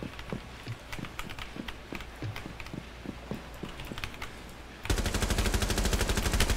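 Gunfire in a Rainbow Six Siege match: scattered sharp shots and footsteps at first, then a sudden loud, sustained burst of rapid automatic fire that dominates the final seconds.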